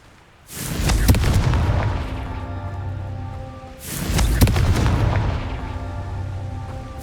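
Two heavy Confringo blast-curse explosions from Hogwarts Legacy, each a sudden loud boom followed by a long, rumbling, ringing tail, the second arriving a few seconds after the first.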